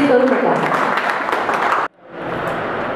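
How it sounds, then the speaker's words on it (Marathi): Applause from the audience at the second anniversary celebration of a human rights and anti-corruption organisation, a dense steady clatter of many hands that cuts off abruptly, then gives way to softer crowd noise. "जरा जोरदार टाळ्या होऊन जायला, तर टाळ्याच्या बाबतीत कंजूसी करू नका."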